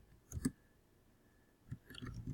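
Quiet keyboard typing of a chat message: a short burst of soft clicks, a pause, then a denser run of keystrokes near the end, with no voices.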